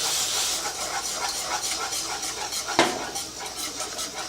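Rice being stirred into boiling milk in a pot on the stove, a soft hissing simmer with faint rhythmic scraping and one sharp metallic clink of the spoon against the pot.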